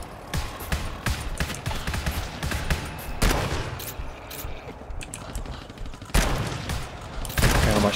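Gunfire rings out in the GTFO video game, with a few loud, sharp shots standing out among dense, sustained battle noise, up close.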